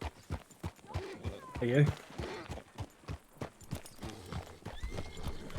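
A horse's hooves clip-clop in a steady walking rhythm in a video game, with a whinny partway through, while a player talks over the gameplay.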